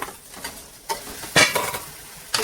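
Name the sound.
chicken added to onion paste in a pan, stirred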